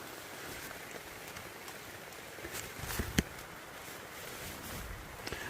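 Heavy torrential rain drums on a camping tent, a dense steady patter with a few sharper close taps and drips standing out, no voices.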